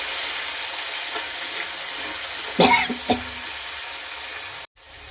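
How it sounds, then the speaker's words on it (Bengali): Spices frying with peas and tomatoes in a pan, a steady close sizzle with a few stirring scrapes and clinks midway before a brief cutoff. "মশলাটা কষিয়ে নিচ্ছি"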